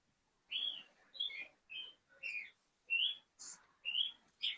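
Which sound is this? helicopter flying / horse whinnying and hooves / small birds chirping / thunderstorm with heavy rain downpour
small birds chirping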